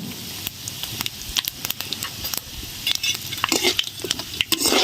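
Panch phoron and dried chillies fry in hot oil while being stirred, with crackling and sizzling spitting through sharp scrapes and clinks of the utensil on the pan, growing busier toward the end.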